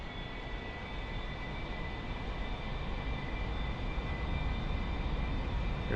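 An A-4E jet rolling for takeoff in DCS World, a loud, steady engine roar with a high whine held evenly throughout, no voices.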